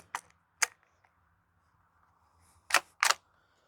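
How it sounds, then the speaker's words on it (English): The bolt of a Hammerli Force B1 .22LR bolt-action rifle being worked to chamber a round: two sharp metallic clicks, a pause, then two more quick clacks, close and crisp against near silence. "we're going to get a round chambered"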